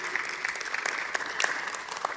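A church congregation claps together in a dense, steady burst of applause, moderately loud and unbroken for a couple of seconds, with no talk over it.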